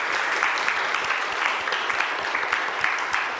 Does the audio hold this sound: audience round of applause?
yes